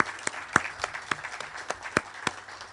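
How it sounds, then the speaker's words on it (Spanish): A small audience claps after an academic talk on praxeology in history, with sparse, distinct individual claps in an uneven rhythm, fairly close, over a quiet room. "Un aplauso"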